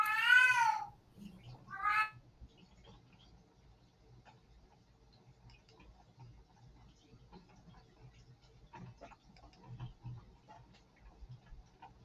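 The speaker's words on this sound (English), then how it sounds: "I hear a cat in the background." A cat meows twice in the background, a drawn-out call followed by a shorter one, then a quiet room with faint ticking and low hum remains.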